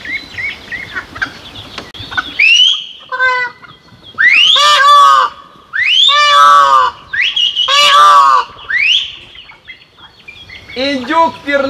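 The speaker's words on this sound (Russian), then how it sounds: "индюки дают голос, им не нравится громкий звук" Turkeys on a forest farmstead gobble loudly in several bursts, reacting to a loud sound, harsh rattling calls overlapping close by, with quieter clucking between them.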